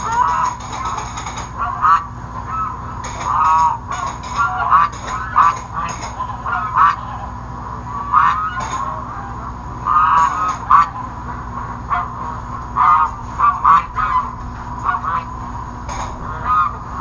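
Geese honk repeatedly inside a goose shed, loud overlapping calls in irregular bursts over a steady mechanical hum, with occasional faint voices in the background.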